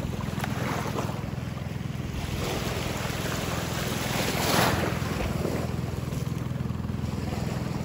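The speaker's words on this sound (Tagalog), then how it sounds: "Ang waves, ang alon." Ocean waves wash along a beach in a continuous broadband rush with wind buffeting the microphone, one surge swelling louder near the middle before easing back.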